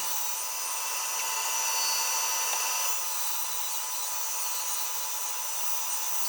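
A bandsaw slices through a wooden nose piece with a steady, bright, hissing whine that holds evenly from start to finish, close and alone.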